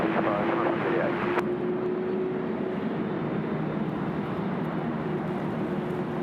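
A Qantas airliner rolls for departure on runway 25 at Sydney Airport on a windy day, a steady distant jet engine roar with a sustained low drone and broadband wind noise, no voices.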